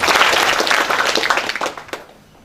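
Audience applause at a university public lecture, a dense burst of many hands clapping that thins out and fades over about two seconds, with faint voices underneath.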